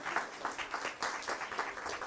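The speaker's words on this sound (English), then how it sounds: "Actually, give them another applause." Audience at a North Mason candidates debate breaking into applause, a fairly faint, even patter of many hands clapping at a distance for about two seconds.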